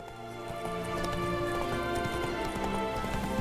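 Horse hooves clip-clop at a steady gallop in The Witcher 3: Blood and Wine, up close and continuous over game music and ambience.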